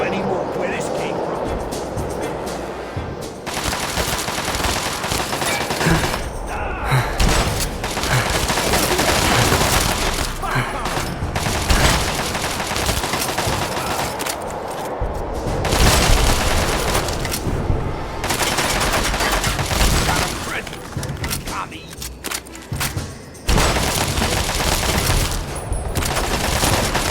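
Sustained gunfire in the Fallout: Tale of Two Wastelands game, Anchorage section: rapid automatic bursts and fusillades with booms, loud and nearly continuous, with voices calling out over the shooting.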